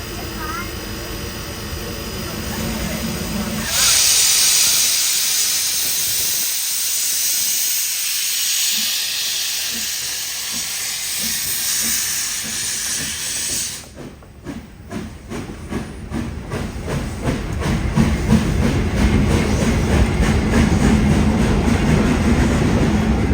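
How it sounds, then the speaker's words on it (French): A steam locomotive on an iron mine railway at Fond-de-Gras pulls away, letting out a loud burst of hissing steam for several seconds before rhythmic chuffing and rumbling build as it departs. "le train vapeur va repartir et nous laisser passer"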